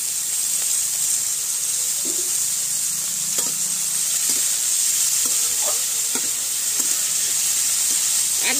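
Boiled figs frying in a pan with dried chilli, chopped garlic and onion, a loud continuous sizzle and hiss close up, with soft stirring scrapes now and then.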